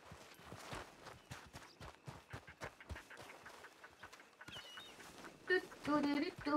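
Horse hooves clip-clopping in a quick, steady rhythm of sharp near knocks, with a faint voice and other sounds entering toward the end.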